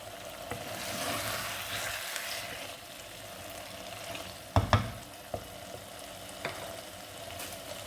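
Mutton keema with potatoes sizzles and fries in a pan, a steady hiss with a few sharp clatters of stirring partway through, close and moderately loud with no talking.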